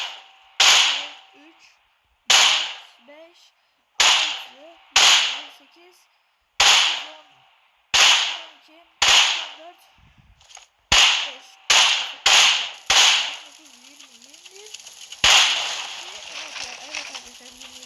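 Groza rifle fire in a video game aimed at a car, about a dozen sharp single shots spaced roughly a second or two apart, then a quicker cluster, each crack loud with a short decaying tail.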